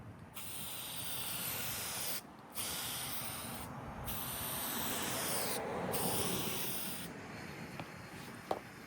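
Heavy continuous spray hiss as a third coat goes onto a car cowl grill, loud and close, broken by a few short pauses between passes and ending with a small click.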